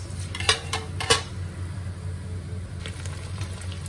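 Tofu sautéed in a pan with soy sauce and oyster sauce: a few sharp clinks of a spatula against the pan over a low steady cooking hiss, the taps bunched early and fading to quieter scraping.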